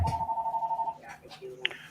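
A telephone rings with a steady electronic tone that breaks off after about a second, followed by short beeps, with speech nearby on a morning show about aquariums.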